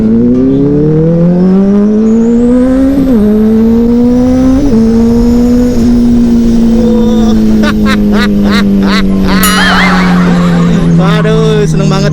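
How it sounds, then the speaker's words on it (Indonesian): A big motorcycle engine revs hard while being ridden, loud and close, its note climbing in pitch, dipping briefly at gear shifts, then holding a steady high drone under rushing wind. "seneng banget dah gue kalau ngebetot moge ya kan"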